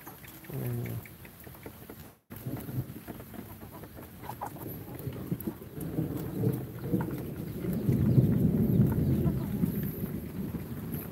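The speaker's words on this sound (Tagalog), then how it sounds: "Kumukulog na dito sa amin" Thunder rumbling during a storm, a low, broad roll that builds toward the end over steady rain, with a rooster faintly audible early on.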